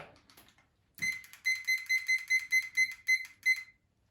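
A kitchen timer being set for cooking rice gives a short rustle and handling knock, then a run of about ten bright, evenly spaced electronic beeps, close and fairly quiet, with no talking.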